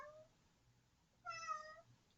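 A cat gives a single faint meow from some distance, heard alone against a quiet room.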